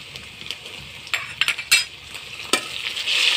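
A utensil scrapes and clinks in a pan as green chili paste is stirred into browned, frying onion and garlic. A few distinct strokes ring out over a soft, steady sizzle.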